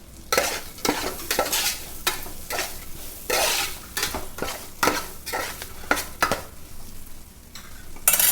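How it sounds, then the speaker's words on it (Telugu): Curry leaves sizzling in hot oil while being stirred, close-up scraping spoon strokes and clinks against the pan over a constant fry hiss, no speech. "కరివేపాకు వేస్తున్నానండి."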